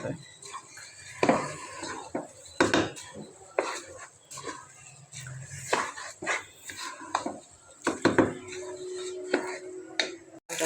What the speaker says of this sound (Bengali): ডালটা ভালোভাবে ভাজতেছি আমি